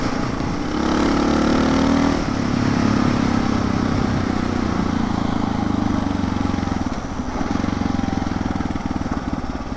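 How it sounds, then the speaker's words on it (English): A motorcycle engine with an aftermarket FMF exhaust drones steadily close by, holding a throaty, rough, even rumble with slight shifts in pitch throughout. "Love that damn FMF exhaust that I've got."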